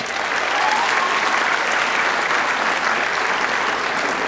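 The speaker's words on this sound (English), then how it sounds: "To all of you, give yourself a nice round of applause." Graduates at a 2019 school graduation ceremony applaud together, producing a thick, even wash of clapping that holds steady throughout without a break.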